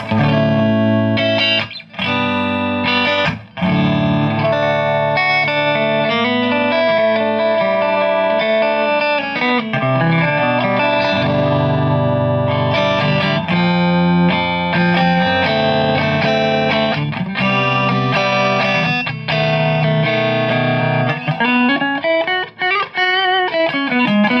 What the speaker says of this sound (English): let's go with the plate reverb. Go back to 9 o'clock as always and start with the subtle position